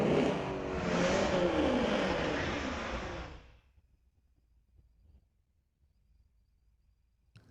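A street-legal drag race car roars down the strip at Mission Raceway Park, loud and close for about three seconds before cutting off abruptly, leaving faint ambient noise.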